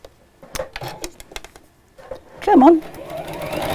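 A sewing machine stitching a long bag pocket, its motor whirring in short bursts and then a longer steady run, with a presenter talking over it.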